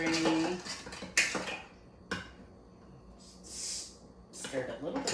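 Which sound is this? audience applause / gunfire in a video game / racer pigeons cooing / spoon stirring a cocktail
spoon stirring a cocktail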